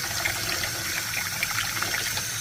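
A steady rush of water runs from an RV's 3000-watt on-demand electric water heater, a continuous moderate hiss with no talking over it.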